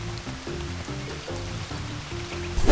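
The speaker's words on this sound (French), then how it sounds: "mais on fait la rando sous la pluie." Rain falls on a hiking trail in Australia as a steady wash of drops and patter, with a low droning hum beneath and a louder rustle at the end.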